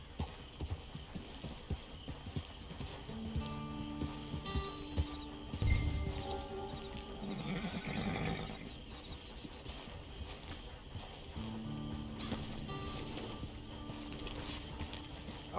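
Horse hooves clip-clop in Red Dead Redemption 2 Online on PC, a steady trotting patter running beneath sustained game music and ambient tones, moderately close, with a brief snort or whinny partway through.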